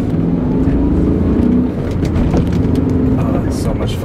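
BMW M5 V8 engine pulling hard from inside the car, a steady loud roar rising as it catches second gear, with no talking.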